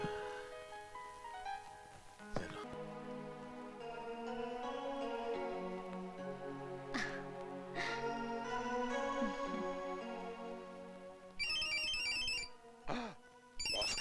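A melodic electronic ringtone plays a repeating tune, fairly loud and close, followed by a burst of brighter, rapid chiming tones near the end.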